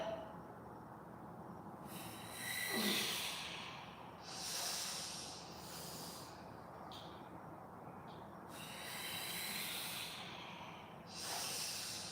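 Slow, steady breaths during a yoga cat-cow flow, soft airy inhales and exhales repeating every couple of seconds, close and alone.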